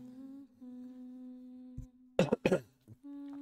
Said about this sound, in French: je vous avais dit je tousse